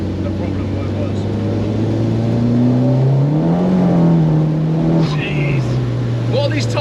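Audi 1.8T turbo engine swapped into a Renault Clio 172, running at a steady drone with a smooth rise and fall in pitch, fairly loud and close, with speech over it.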